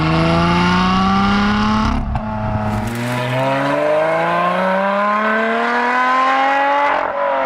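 A Lotus Exige V6 with a stainless steel Komo-Tec exhaust and carbon tips howls loudly up close, shifting gear once and then climbing steadily in pitch under hard acceleration.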